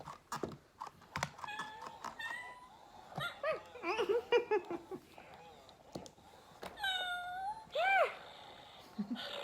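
A cat meows several times, including a drawn-out rising meow near the end, with people talking in between and some handling noise.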